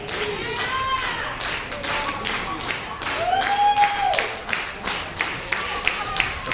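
A wrestling crowd at the Franklin Horner Community Center claps in a steady rhythm, heard somewhat distant under a commentator's voice and arena echo.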